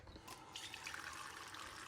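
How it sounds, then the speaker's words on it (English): A kitchen tap turned on, water running in a soft, steady, faint stream under a low hiss, with no voices. "Let's end by turning on that 5-star water."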